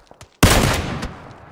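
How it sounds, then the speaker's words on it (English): Gunfire in a shooter video game: a few faint quick pops, then a loud burst of shots that rings out and slowly fades, with no talking. "He's putting some shots down."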